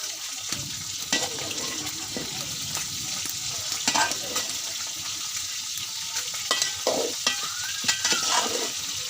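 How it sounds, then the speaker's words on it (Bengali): Greens and spices stirred in a frying pan for a dried-fish curry: a close, steady sizzle with repeated scraping and clattering stirs, plus brief watery hiss, and no talking. "তো শাকগুলো দিয়ে দিলাম, এরকম মশলা নাড়িয়ে চাড়িয়ে মিশিয়ে নেব।"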